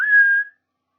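A single short human whistle mimicking the Seraphites' signal calls from The Last of Us Part II, a clear, close, steady tone that holds briefly and then cuts off into silence.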